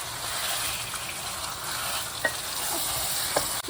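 Chicken stirred in a pan with turmeric and salt, a steady close sizzle with soft scraping and a couple of brief clinks, no talking.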